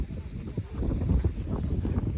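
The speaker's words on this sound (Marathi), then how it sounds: "खूप छान असा वारा सुटलाय" Wind gusts across the top of Lohagad fort, buffeting the microphone with a low, uneven rumble that swells and dips throughout.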